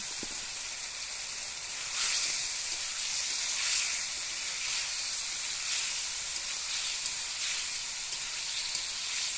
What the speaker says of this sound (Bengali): তারপরে ভেজে রাখা আলুগুলো দিয়ে দিলাম।